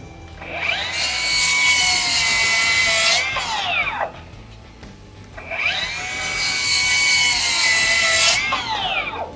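Two bursts from a Milwaukee saw cutting wood, each spinning up to a loud high whine, holding for a few seconds, then winding down, with a short pause between.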